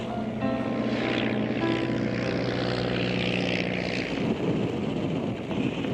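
A propeller aeroplane drones steadily in flight, its loud, continuous engine hum filling the whole stretch with no break.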